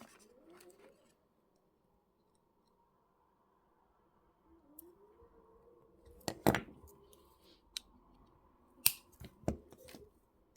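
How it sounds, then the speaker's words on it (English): Wire cutters snip the wire ends on a wire-wrapped moon pendant, a few sharp close clicks and snaps clustered in the second half, after a quiet stretch with faint background hum. "just cut off the ends and press them around so they're nice and secure in place"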